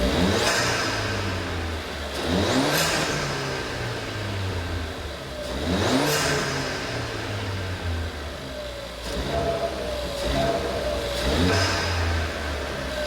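A 2014-2019 Ford Fiesta ST engine with a new crossover pipe exhaust revs up repeatedly, rising to a loud roar and falling back to idle, close by with a throaty exhaust note.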